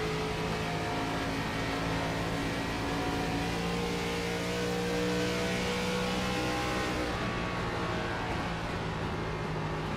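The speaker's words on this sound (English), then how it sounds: "It really lets you hear just how much goes into coming off the corner here" A race car engine in the iRacing video game, an ARCA Series stock car at Dover heard from the roll cage view, holds a loud, steady drone with rising revs as it comes off a corner, continuous throughout with no talk.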